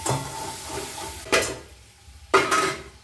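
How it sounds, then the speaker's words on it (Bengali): Spice masala fries in oil in a pan for a Bengali fish curry, with a soft steady sizzle and two sharper stirring scrapes, up close and without voices. "এবার এই মশলাটা কষাবো।"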